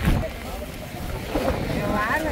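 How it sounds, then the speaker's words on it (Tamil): Strong wind blows across a market, buffeting the microphone with a roaring, gusty rush, while a voice talks faintly underneath. "காத்து கடுமையான காத்தா இருக்கு."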